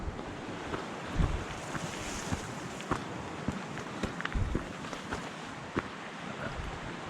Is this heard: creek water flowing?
yes